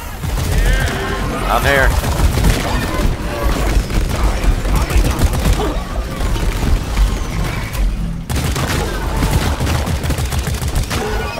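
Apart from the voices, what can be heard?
gunfire and explosions in the video game Deep Rock Galactic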